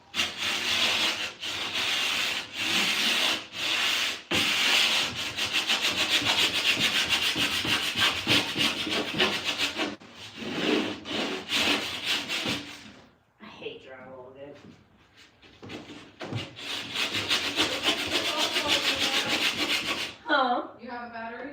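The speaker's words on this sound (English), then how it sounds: "I'm gonna sand a giant chunk off from about" A power sander grinds a large chunk off wood, a loud continuous rough rasp in long passes that stops and restarts, with brief pauses and someone speaking in the gaps.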